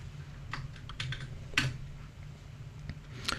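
Code typed on a computer keyboard in short, irregular bursts of close, crisp key taps with one sharper clack mid-run, during a live coding session.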